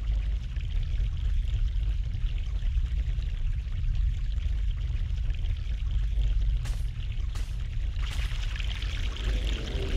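Fresh mountain water flows in the PC adventure game The Longest Journey, a continuous, loud rushing stream that holds steady throughout with no talk.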